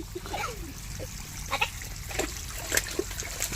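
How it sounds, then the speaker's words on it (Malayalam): A child splashes through shallow leftover water in short, irregular splashes and drips, with faint voices in the background. "പൊന്നു തവളക്കുഞ്ഞ് ചാടി കൊണ്ട് നടക്കുക വെള്ളത്തിൽ കൂടെ."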